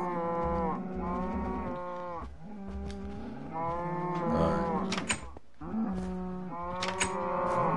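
Cows mooing in the Minecraft video game on PS4, a series of long, drawn-out low moos in several overlapping bursts, loud and close with no talking.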